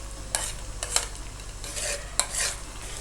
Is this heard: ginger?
yes